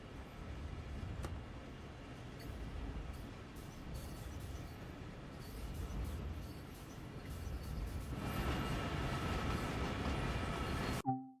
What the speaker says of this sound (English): Now that the deafening car noise are gone, we can finally listen to the train.